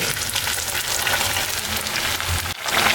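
Battered puri deep-frying in hot oil gives a steady, dense sizzle and crackle that holds close and loud throughout, with a brief dip near the end.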